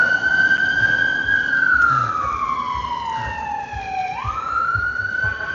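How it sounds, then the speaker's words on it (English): An ambulance siren passes on a New York City street, a loud wailing tone that sweeps down and then climbs again as it goes by, over steady traffic noise. "Yep, it was the ambulance."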